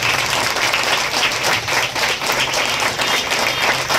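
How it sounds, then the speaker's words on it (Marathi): A hall audience at a ceremony for meritorious students claps loudly, dense applause holding steady throughout with no voices over it. "जोरदार टाळ्या वाजवूयात या सर्व गुणवंत विद्यार्थ्यांसाठी"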